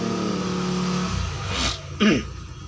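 A washing machine's spin motor, under test with its wiring being removed, hums with a steady electric drone that cuts off after about a second, followed by a brief voice.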